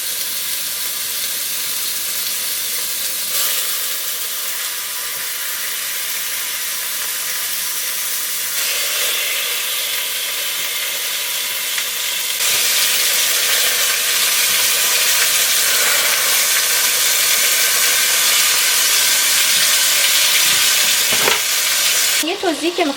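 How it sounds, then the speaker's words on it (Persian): Chicken pieces seasoned with turmeric and salt sizzle and crackle steadily in hot oil, a loud continuous frying hiss that grows a little stronger partway through. "با یه مقدار روغن شروع میکنیم مرغامون رو سرخ کردن"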